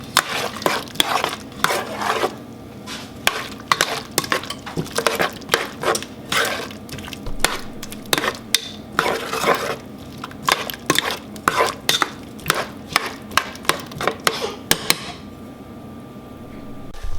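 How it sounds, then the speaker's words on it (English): A spoon stirs peach cobbler filling in a pot, making repeated close clinks and scrapes against the metal in an irregular rhythm before easing into a quieter stretch near the end. "And I'm going to stir it."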